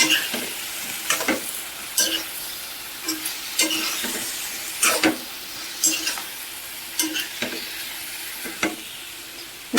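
Capsicum frying in oil with a steady sizzle, broken by repeated sharp scraping strokes of a spatula stirring the pan at a brisk, uneven rhythm; close by and alone, with no voices.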